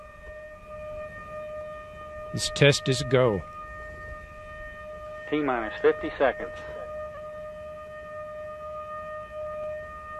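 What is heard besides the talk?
sirens blaring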